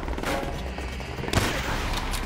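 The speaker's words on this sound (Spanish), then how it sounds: "¡Ametralladora!" Dense gunfire from a Call of Duty: World at War battle on PC, a steady loud barrage of rapid shots with a sharper burst partway through, layered over battlefield noise.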